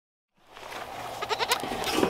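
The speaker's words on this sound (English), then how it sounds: "Dairy is a big part of our diet, so we have goats." Goats on a small home farm bleating close by, starting after a short silence and rising into a run of wavering cries that grow louder toward the end.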